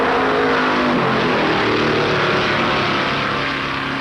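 Stock race cars at the 1964 Southern 500 at Darlington roar off the start together, a dense, loud, continuous engine drone with droning tones shifting as the field accelerates, no voices over it.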